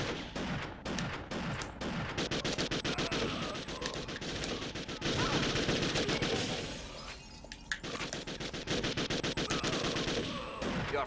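Video game gunfire from a Second Sight session: rapid, dense bursts of automatic shots and sharp single cracks, with some glass-like shattering. The shooting stays loud and continuous, easing briefly near the middle and picking up again. No one speaks.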